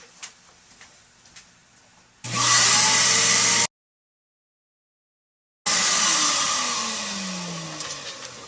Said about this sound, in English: I have a little vacuum over there, so I'm going to go ahead and vacuum this quick